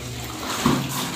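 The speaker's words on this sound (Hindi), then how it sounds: "बस पानी भर जाए तो मैं गमले में डालूँगा" Water runs from a washroom tap into a mug, a steady close rushing stream with a slight gurgle partway through.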